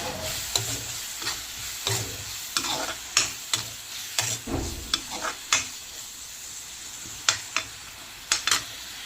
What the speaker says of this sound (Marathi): त्याच्यामध्ये मी कांदा परतून घेते आता मी टोमॅटो पण भरपूर टाकते टोमॅटो छान असं परतून घेतलं आहे